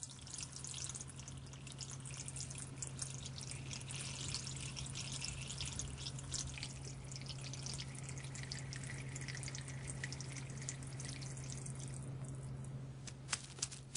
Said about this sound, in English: But dirt and water just roll off this new paint,